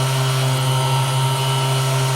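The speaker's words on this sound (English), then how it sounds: "That lets me know that I am drilling." A power drill bores a hole into stone, its motor holding a loud, steady whine with a constant hum underneath for the whole stretch, with no voices.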